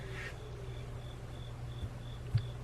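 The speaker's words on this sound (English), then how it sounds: "That way you can hear the cricket." A lone cricket chirps indoors at night, faint, evenly spaced short trills repeating about twice a second over a low background hum, with one soft knock near the end.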